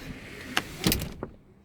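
Rear seats of a 2019 Renault Captur folding down into a flat boot floor: a few short mechanical clunks and a latch click, close and moderately loud, with quieter rustling between them and no talk.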